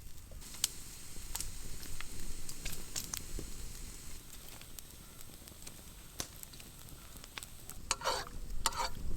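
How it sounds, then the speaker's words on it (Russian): Beef fat tail (kurdyuk) rendering in a pan sizzles and crackles steadily, with scattered sharp pops and spatters throughout and a denser burst of crackling near the end; close and moderately loud, no voices. "Сейчас мы вытопим курдюк, получится вкусное масло."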